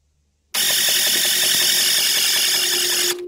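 A Ford Powerstroke F-350 diesel engine cranks on its starter in one continuous, loud, close burst of about two and a half seconds, then cuts off without catching.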